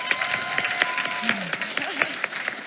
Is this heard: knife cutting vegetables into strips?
no